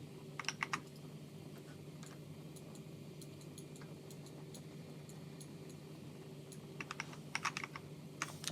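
Quick bursts of typing on a computer keyboard, close but faint in a quiet room, with clustered key clicks separated by pauses and a steady low hum underneath.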